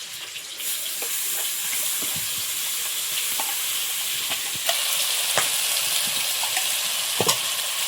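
Mustard, poppy seed and green chili paste frying in a pan for a hilsa curry, a steady close sizzle with occasional stirring clinks and scrapes, no voices.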